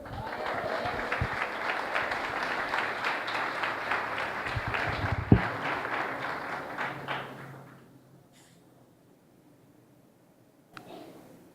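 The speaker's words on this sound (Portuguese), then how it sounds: "pode aplaudir o Senhor" A church congregation applauding in a large hall, dense clapping and crowd noise that fades out after several seconds into near silence, with a faint thump near the end.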